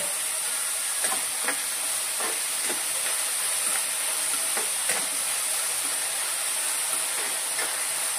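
Onion fries with coconut in a pan, a steady bright sizzle and hiss with occasional soft pops and stirring clicks, heard close with no talking.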